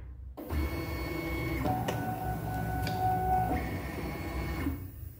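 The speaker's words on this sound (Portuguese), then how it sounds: "nós vamos carregar a base na máquina" An I-CRAFT cutting machine draws a cutting mat in, a steady mechanical whir with several stepping motor shifts and brief clicks, running close and alone for about five seconds before stopping.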